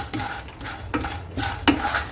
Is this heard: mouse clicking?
no